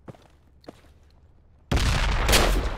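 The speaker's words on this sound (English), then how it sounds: "I'm gonna throw a nade up there." A grenade detonates in the military shooter Project Reality: faint footsteps and shuffles give way to a sudden loud, broad explosion that rumbles and sustains to the end.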